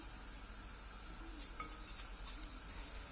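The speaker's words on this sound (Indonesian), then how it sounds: "saya cuman goreng begini doang nih" Fish balls (bakso) sizzle as they fry in a pan for a home-cooking demonstration, a steady crackling hiss with a few sharper pops toward the end and no talking.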